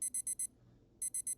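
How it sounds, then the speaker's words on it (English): Electronic alarm clock beeping in a video game, rapid groups of four high shrill beeps separated by a short pause, loud and alone. "There's that alarm."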